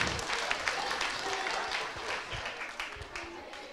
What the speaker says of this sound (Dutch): Geef ze nog één groot applaus